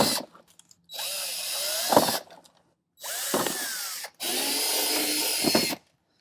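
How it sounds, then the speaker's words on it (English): Power drill with a 5/32 bit boring out plastic fender clips on a Jeep, three separate close, whining bursts of a few seconds each, rising as the bit bites through and stopping abruptly between them. "We're just going to find the center of these plastic clips and just drill them out."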